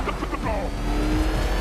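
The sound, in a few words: Batmobile car engine in the video game Batman Arkham Knight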